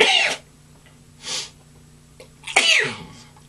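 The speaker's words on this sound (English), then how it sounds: "I'm going to sneeze." A sharp sneeze bursts out, followed by a quieter breathy sound, then a second loud sneeze, close and clear with no talking.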